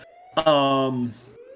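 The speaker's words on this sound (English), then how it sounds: "Just the sirens in the back, like, come on." A rising, wailing siren sounds briefly in the background of a song, with a tonal swell that climbs and then falls away over about a second.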